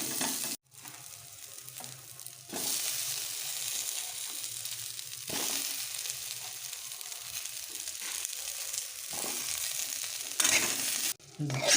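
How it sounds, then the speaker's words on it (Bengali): Cumin seeds, onion and garlic sizzle steadily in a pan, with intermittent scraping strokes as the mix is stirred, a few brief gaps between bursts, close by and fairly loud. "জিরে দেওয়ার পর পেঁয়াজ আর রসুনটা দিয়ে দিয়েছি। এটাকে ভালো করে নেড়ে চেড়ে ভাজা করে নিতে হবে।"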